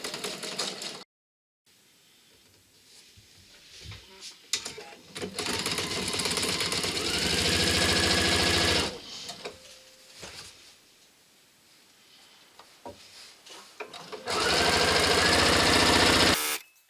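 A domestic sewing machine stitches two long edges of fabric together, placed right sides facing, in several sustained runs of steady whirring broken by short pauses, fairly close and loud with no talking.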